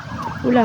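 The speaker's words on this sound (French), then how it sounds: "du coup c'était une ambulance on dirait" An ambulance siren wails along a US street, its rising and falling tone swelling louder near the end as it passes, with a brief exclamation from a voice nearby.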